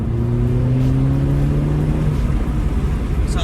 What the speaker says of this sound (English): You get a newer exhaust, which sounds phenomenal.